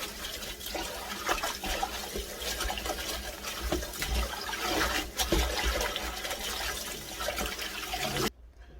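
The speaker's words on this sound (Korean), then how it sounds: "조물조물해서 빨리 헹궈주면 돼요." Foraged thistle greens are rinsed by gloved hands under running water, making a continuous splashing, gushing stream with occasional sloshes and soft thumps, close and steady for several seconds before stopping.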